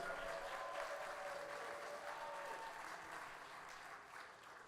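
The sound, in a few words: applause for newlyweds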